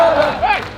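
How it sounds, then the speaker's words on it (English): A rowdy esports crowd at a Call of Duty grand final in London roars and chants, a loud, sustained mass of voices with rising whoops, close and filling the brief moment. "They're a bit rowdy, this crowd in London, aren't they?"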